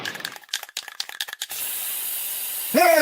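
An aerosol spray-paint can first rattles in a quick run of clicks, then releases a loud steady hiss lasting over a second before a brief tonal sound cuts in at the end.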